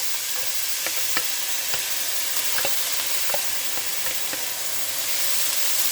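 Onion mixture sizzles steadily in a hot pan on low heat for a goulash casserole, a continuous bright frying hiss broken by scattered sharp crackles and pops, close and alone with no talking.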